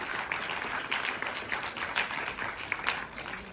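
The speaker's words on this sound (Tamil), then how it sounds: "அவரது சேவையை மேலும் ஊக்கப்படுத்த இன்னும் பலத்த கரவொலிகளை வழங்குவோம்." An audience claps steadily at a dance school salangai poojai event in Rani Seethai hall, a dense, sustained applause from many hands.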